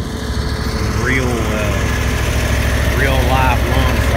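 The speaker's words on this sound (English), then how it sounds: "That mower is doing exactly what I bought it for. Show you guys some real-time mowing" A Snapper Pro lawn mower cuts wet grass in the rain, its engine droning loud, close and steady for the whole stretch, with faint higher chirps above the motor noise.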